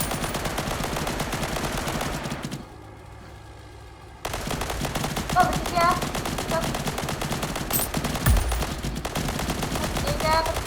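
Rapid bursts of automatic gunfire crackle almost continuously in the Roblox game Harbor Havoc, broken by a short quiet stretch in the middle before the shooting resumes.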